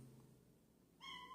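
A pet cat gives a single short, clear meow near the end, loud and close, after a second of quiet room hum.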